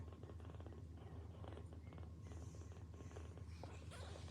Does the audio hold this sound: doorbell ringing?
no